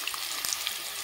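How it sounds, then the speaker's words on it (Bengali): Cut potatoes fry in hot oil with black cumin, giving a steady, close crackling sizzle with small pops throughout a brief moment. "প্রথমে আলুটাকে ভেজে নেব।"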